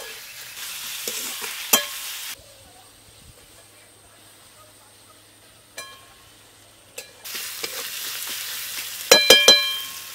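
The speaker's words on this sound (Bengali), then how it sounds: "রসুন আর পেঁয়াজটা একেবারে লাল করে ভেজে নেব।" Chopped onion and garlic paste frying in hot oil give a soft steady sizzle with occasional stirring scrapes, broken by a quieter stretch before the frying swells again.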